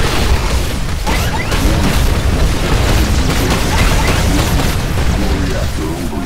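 A Titan's reactor overload in Titanfall erupts into a loud, dense boom of crashing debris and rumbling blasts that fills the scene without break, with voices talking over it.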